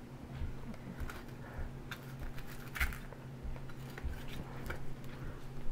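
A knife carving a whole cooked turkey, with soft scraping and cutting sounds and occasional clinks of utensils against a dish, close and fairly quiet over a steady low hum, no one talking.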